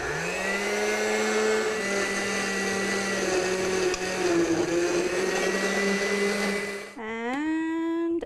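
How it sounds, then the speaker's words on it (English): A blender on its puree setting whirs loud and steady, blending a big bowl of watermelon, then its motor pitch jumps sharply higher near the end. "we're going to take a big bowl of watermelon and just put it in a blender"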